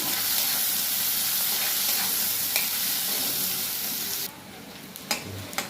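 Oil sizzles loudly around chopped onion and green chili in a pan, then quiets abruptly, followed by a few scraping stir clicks.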